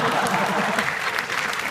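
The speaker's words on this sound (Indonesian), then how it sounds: "Tepuk tangan buat gunung berapi." A stand-up comedy crowd in Banda Aceh claps loudly and continuously, with a voice faintly audible beneath the dense applause.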